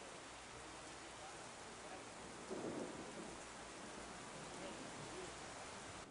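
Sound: rainstorm with thunder in San José

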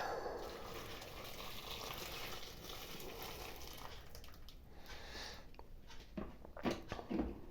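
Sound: water poured over cut potato pieces

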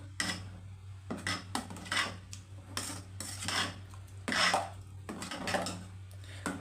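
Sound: stirring jaggery payasam in a pot

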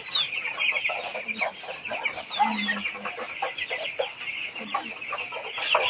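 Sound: broiler chickens clucking in farm shed

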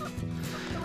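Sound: hens clucking

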